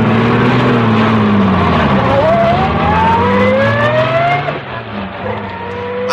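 A racing car engine on a race course roars loud and continuous, its pitch sweeping upward through gear changes as it accelerates, then dipping slightly near the end, staged as a radio drama effect.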